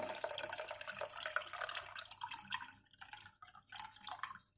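Pineapple juice poured from a cut pineapple into a glass while making a pineapple cake, a soft trickling liquid stream that thins into intermittent drips, faint and close.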